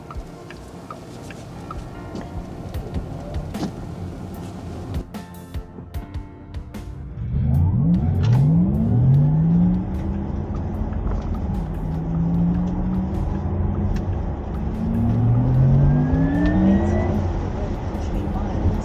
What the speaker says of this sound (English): I turned on the Porsche electric sport sound to make my journey to London through all the traffic a bit more interesting.